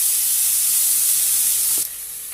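Chopped onion softening in a hot pan, a steady loud sizzling hiss that drops off abruptly near the end after a brief knock, with no talking.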